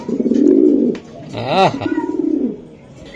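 Racing pigeons coo in low, rolling bursts close by, and a man's brief exclamation comes between the coos.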